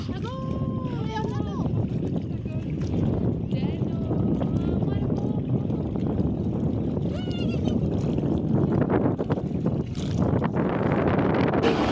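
Steady wind buffets the microphone aboard a boat, with water rushing beneath and voices talking over the constant noise.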